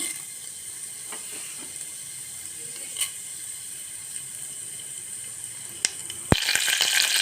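Mustard seeds and cumin are tossed into hot oil for a jowar masala mudde, with faint crackles and pops at first, then a sudden loud sizzle bursting up near the end and continuing.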